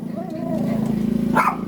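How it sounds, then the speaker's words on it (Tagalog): Dogs at a house make short yipping and whining barks that overlap with a person talking nearby, with a sharper bark near the end. "At ito ang mga aso namin."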